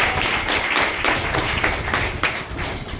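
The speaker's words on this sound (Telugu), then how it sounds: "సో వీళ్ళకి ఒక్కసారి గట్టిగా క్లాప్స్ ఇద్దాం" Audience applause at a leadership training session, a dense steady patter of many hands clapping throughout, fairly close and continuous with no talk over it.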